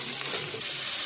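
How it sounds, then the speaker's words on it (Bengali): Spices, bay leaves, dried and green chilies and ginger paste fry in hot oil, giving a short, steady, close sizzle with no voices. "মশলাটা অনেকটা ভাজা ভাজা হয়ে আসছে।"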